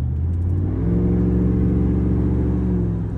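A loud truck engine revs steadily under light throttle through a throttle controller, a deep rumbling drone that holds and builds slightly, heard alone and close.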